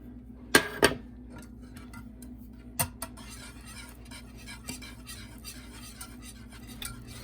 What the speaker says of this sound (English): We're just gonna whisk that in